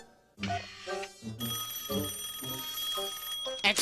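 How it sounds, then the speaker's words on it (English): Cartoon ringing of Inspector Gadget's top secret gadget phone, a bright electronic bell-like tone repeating in quick rhythmic bursts, loud and alone with a high sustained whine underneath. "It's the top secret Gadget phone. Duty calls."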